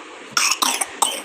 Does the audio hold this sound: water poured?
no